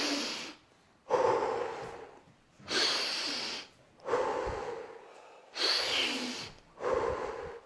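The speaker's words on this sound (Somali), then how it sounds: "neefta sanka ka qaado afka ka daa" Slow, deliberate breaths in through the nose and out through the mouth, heard up close in about four steady cycles of airy inhale and exhale separated by short pauses.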